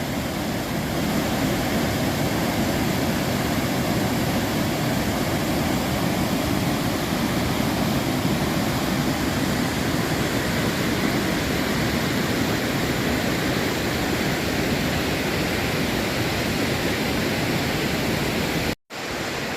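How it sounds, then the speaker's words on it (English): Oneida waterfall at Ricketts Glen State Park, a constant, full roar of falling water that holds unbroken and loud for the whole stretch, with one brief dropout near the end. "Another look at the Oneida waterfall"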